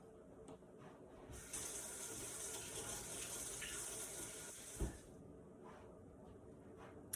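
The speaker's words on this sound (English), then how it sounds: "I've just filled that up with water" Water runs from a kitchen tap into a bowl in a steady, faint hiss that fills the sink for several seconds before shutting off, with a light clunk near the end.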